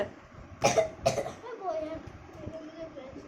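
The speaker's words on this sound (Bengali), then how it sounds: "জল খা জল খা কাশি হচ্ছে" Two sharp, close coughs come in quick succession near the start, followed by softer throat sounds and quiet voices in a home.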